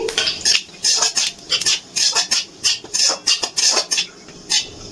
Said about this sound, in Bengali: ফোড়নটা তেলে কিছুক্ষণ একটু নাড়াচাড়া করে নিচ্ছি